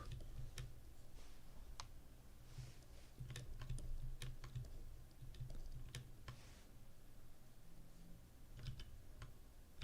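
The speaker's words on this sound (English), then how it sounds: "It sounds like that must be the keyboard sound." Steady computer keyboard typing, irregular sharp key clicks pattering along close by over a low background hum, with no talking.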